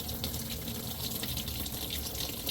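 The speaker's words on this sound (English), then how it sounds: "you have water inside the motor, or coolant inside the motor, it's going to be coming out" Coolant drains out of a car's water pump housing after the loose, leaking pump is pulled, making a steady, close splashing and trickling flow throughout with no break.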